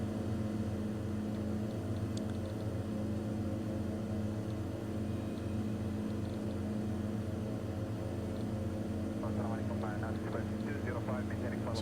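Twin Otter aircraft climbing toward Mount Everest, a steady loud propeller drone heard from inside the cabin, unbroken and even throughout, with a voice talking over the engine near the end.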